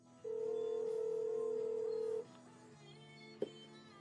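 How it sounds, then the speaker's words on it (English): A telephone ringing out during a call: a steady loud electronic tone holds for about two seconds, then stops, followed by a quieter lower hum and a brief sharp blip. "Oh, it's ringing."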